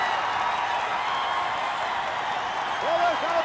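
A packed wrestling arena crowd cheers loudly and continuously, with a commentator's voice briefly rising over the roar near the end.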